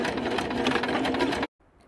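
A sewing machine stitching elastic onto a sweatshirt runs in one fast, steady, close whirring burst of rapid needle strokes, then stops abruptly and leaves near silence.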